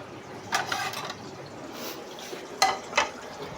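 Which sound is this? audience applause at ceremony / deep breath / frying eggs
frying eggs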